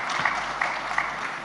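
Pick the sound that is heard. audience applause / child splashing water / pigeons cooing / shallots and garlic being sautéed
audience applause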